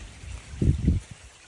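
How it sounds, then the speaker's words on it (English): Stormwater runs from a metal flared inlet into a larger smooth-wall drainage pipe, making a low gurgling trickle that swells into two brief louder splashy pulses, close and moderately loud. "all of the water is entering the pipe"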